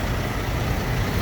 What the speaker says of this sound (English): As I get in the truck, my truck is actually running now too.